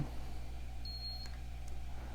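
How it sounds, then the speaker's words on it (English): A single short, high electronic beep from a JUMPER infrared forehead thermometer sounds once, faint against a steady low hum. "There's a nice little beep."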